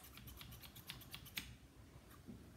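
Scissors snipping paper for an origami flower, a quick run of small crisp cuts followed by a few sparser snips, faint and close with no talking.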